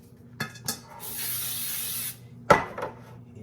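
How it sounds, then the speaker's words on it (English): A steady aerosol hiss of cooking spray on cake pans lasting about a second, with light clatter of the metal pans being handled before and after. "Let me spray these right quick."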